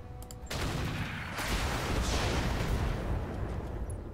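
Heavy weapons fire in the naval combat game Roguepoint: a brief lead-in, then a loud, dense barrage of overlapping cannon blasts and rumbling booms that carries on to the end, with no speech.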